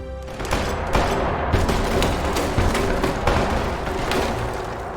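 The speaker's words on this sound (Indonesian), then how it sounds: "Akan tetapi tembakan tersebut tidak menghentikan Tuan Ahn Hyon." Heavy, sustained gunfire with rapid overlapping shots and booming bursts, loud and continuous with no talking.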